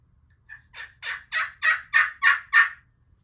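A wild spring gobbler turkey sounds off with a rapid gobble of about eight rising pulses, fairly close and clear against a quiet outdoor background with no talking.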